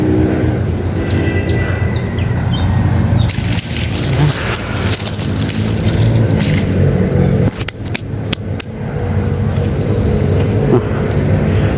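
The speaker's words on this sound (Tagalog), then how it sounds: "dili ko makaistorya magkatusi kay hilabihang saba aman sa makina" A loud lawn mower engine drones steadily up close with a continuous mechanical rumble and rattle, dipping briefly before running on.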